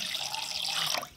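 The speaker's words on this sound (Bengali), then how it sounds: "এবার পরিষ্কার করে ধুয়ে নেব।" Cut pieces of green jackfruit being rinsed in water, a brief close splashing and running-water wash lasting about a second with no voices.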